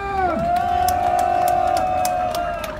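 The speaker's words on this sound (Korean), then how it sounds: "박수 함성!" A short burst of crowd cheering and clapping at an outdoor Korean cultural arts festival, heard over a steady held tone that dips at the start, lively and fairly close.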